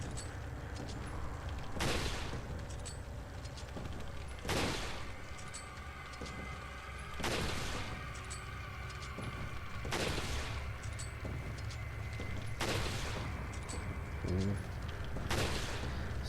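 Sniper rifle gunfire in the video game Resident Evil 4: sharp, loud shots at roughly two- to three-second intervals over a constant low background hum, with no talking.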